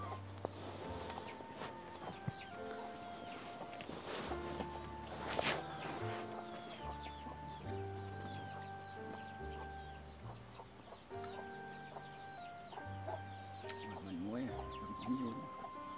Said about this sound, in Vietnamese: Gà nhà ông thì có mấy con hả ông?